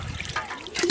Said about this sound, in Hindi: अब चलते हैं, हम पालक धो लेते हैं और दाल भी धो लेते हैं।